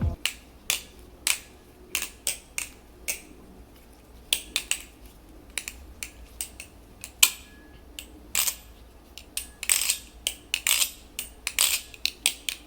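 A lubed LDY Sirius V2 balisong being flipped, its handles snapping shut and open in a long run of sharp, close metallic clicks, some single and some in quick clusters, with short quiet gaps between them.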